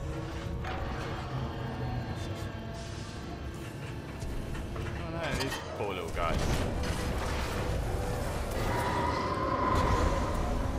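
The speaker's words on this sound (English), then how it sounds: "a series of explosions just weakened the manipulator" Explosions in the video game Titanfall 2, a dense, continuous rumble of booms and blasts that grows louder toward the end, mixed with game effects.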